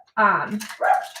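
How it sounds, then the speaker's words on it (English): A pet dog barks indoors twice in quick succession, sharp close yaps with a whiny edge, while a person speaks briefly over the second bark. "so sorry about my dog barking."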